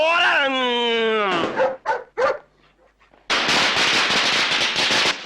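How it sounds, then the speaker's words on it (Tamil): A long, dense burst of crackling firecrackers erupts after a drawn-out vocal whine and a few short sounds, loud and close. "எல்லாரும் பட்டாசு வெடிக்கிறாங்களா?"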